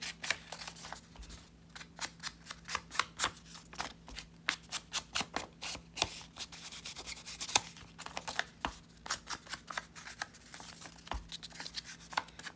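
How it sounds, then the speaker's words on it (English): Paper being folded back along the middle seam of a handmade torn-paper journal, giving a long run of crisp, close rustling crackles and rubbing, steady and repeated, with no talk over it. "I usually fold it back this way so I can get that middle seam."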